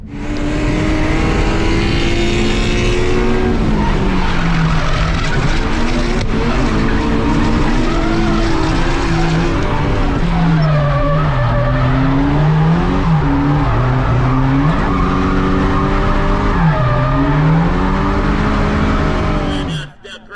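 Drift cars battle side by side at a DSA drift event, their engines roaring and revving loudly while tires skid and squeal continuously for about twenty seconds with no break.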